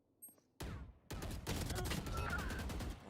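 Rapid bursts of gunfire in a video game ring out loud and close, a dense stream of shots following a short pause after an opening crack, with a player's voice faintly underneath.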